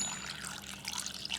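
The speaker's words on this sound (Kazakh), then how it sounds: "Енді қайтадан қайнаған жылы су құйып." Warm boiled water is poured into a container for making Nauryz kozhe, a soft, steady trickle heard close up with no talking.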